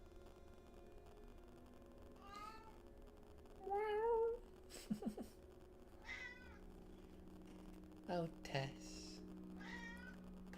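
A pet cat named Tess meows repeatedly to be let out of a closed room, with short, fairly quiet, separate calls spaced a few seconds apart. Soft background hum runs throughout, and someone speaks briefly.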